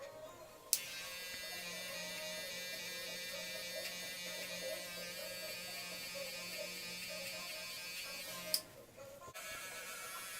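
Electric hair clippers with a number two guard blending a low bald taper: a steady, close, buzzing motor hum running for about eight seconds, switched on and off with clicks at each end.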